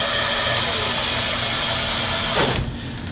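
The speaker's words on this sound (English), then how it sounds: "Doesn't sound too aggressive of a motor, to be honest with you." The electric hub motor of a Swagtron EB-5 e-bike runs on throttle, a steady close whirring hum with hiss that drops away sharply near the end.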